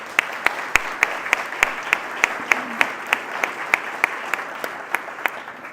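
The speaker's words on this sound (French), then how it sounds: "Alors, on les applaudit." Audience applause at a volunteer recognition ceremony, a modest crowd clapping with distinct, fairly regular sharp claps standing out over a softer bed of hand claps, moderately close and without speech.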